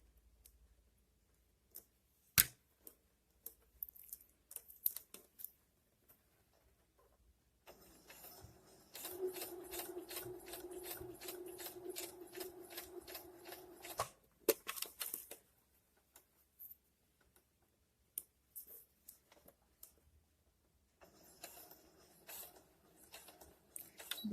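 A sewing machine stitches back and forth on a dress being refashioned: a sharp click, then a run of rapid, even mechanical stitching for several seconds, a pause, and another shorter run, close and alone.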